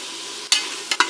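Tomatoes and green chillies sauté in a pressure cooker with a steady sizzle throughout, punctuated by three sharp scraping stirs near the end.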